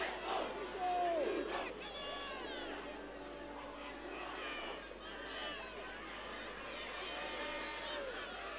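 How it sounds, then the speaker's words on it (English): A school rugby crowd at an under-18 semi-final is up on its feet, roaring in a steady, loud wall of cheering and shouting that runs the whole time beneath a commentator's voice. "QVS crowd can't find the seat. They're all up on their feet."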